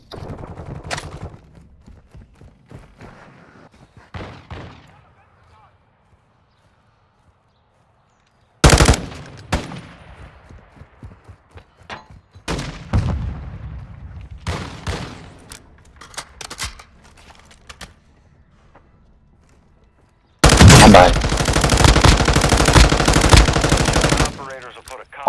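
Bursts of automatic gunfire in a tactical shooter game, with scattered single shots early on and a long loud sustained volley near the end, separated by quieter stretches where voices talk.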